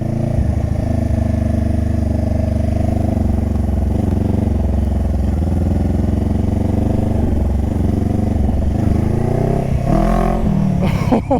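A motorcycle engine idling close by, then pulling away in first gear with a rising rev and a clattering shift of pitch near the end; loud and steady throughout with no talk.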